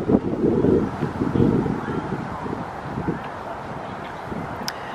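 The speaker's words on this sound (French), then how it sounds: "Quand on est en plein vent, il fait un peu froid." Gusty wind buffets the microphone in strong low rumbles in central Chicago, easing after the first couple of seconds into a steadier breeze.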